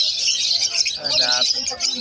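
A caged bird gives high chirping calls over a steady background, with a voice speaking briefly underneath.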